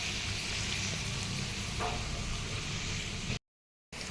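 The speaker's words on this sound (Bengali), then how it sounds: "এর মধ্যে ঘি দিয়েছি সাদা তেল দিয়েছি আর এবার এগুলো দিয়ে ভাজছি" Carrots and beans frying in ghee and white oil for fried rice make a dense, steady hiss up close that runs unbroken, then drops to a short silence near the end; nobody talks.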